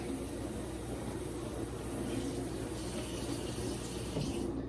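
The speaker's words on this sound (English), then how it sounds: "And I just rinse this out really good and then just fill it with water" Tap water runs steadily into a kitchen sink as a big empty jug is rinsed and filled, a constant close rushing hiss with no voices.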